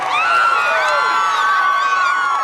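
An excited crowd outside the Phoenix courthouse cheers and shouts after a guilty murder verdict, a dense, steady roar of many voices with whoops rising above it, close and loud for the whole stretch.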